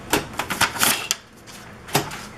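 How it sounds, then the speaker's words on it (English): A 1985 Smith Corona SD300 electronic typewriter with Spellwrite 2 types in sharp, close clacks, several quick strikes in an irregular burst, then a pause before one final strike, with no talking. "this is my Smith Corona SD300 with Spellwrite 2 trademark from 1985"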